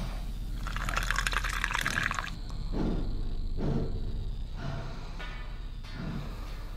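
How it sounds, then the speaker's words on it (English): Bleach poured out in The Cat Lady game, a steady gurgling stream for about two seconds, then a few softer splashes and drips at moderate volume. "Let's pour the bleach."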